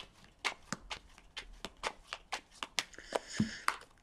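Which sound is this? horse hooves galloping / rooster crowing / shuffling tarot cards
shuffling tarot cards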